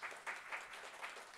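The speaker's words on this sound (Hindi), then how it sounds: "तो सभा के लिए जोरदार तालियां" Audience applause at a camp session in Nagpur, a short burst of clapping with several swells, moderately loud and without speech.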